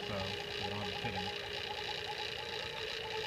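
A vacuum pump draws down the AC system of an '85 C10 pickup, making a continuous, even mechanical whirr that stays quiet and steady throughout.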